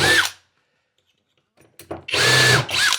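A power drill drives screws into clamped kitchen cabinets in two short, loud, close whirring bursts, separated by a quiet pause with faint handling clicks.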